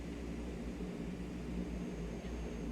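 Engines of a De Havilland Canada CL-415 in Microsoft Flight Simulator 2024 give a steady, even drone with a deep low rumble. The sound holds constant throughout, with no voices.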